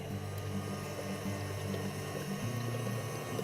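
An electric mixer churns cookie dough with a steady, continuous motor whir and a faint rhythmic slosh, running alone at a constant pitch.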